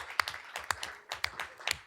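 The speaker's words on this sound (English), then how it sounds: "give them another round of applause" A small audience at a school board meeting claps for children, a handful of sparse, uneven claps at close range, fairly quiet and without talk.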